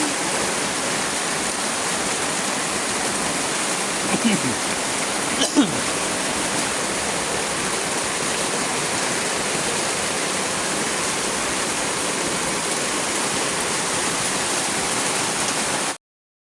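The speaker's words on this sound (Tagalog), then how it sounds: "lakas ng ulan." Steady, dense roar of heavy rain pouring down in the mountains without pause, loud and close, with no voices over it.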